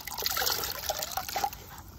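Water trickles and sloshes in a bucket as a grouting sponge is rinsed during mosaic pot work, a steady close, continuous dribbling wash with no talk.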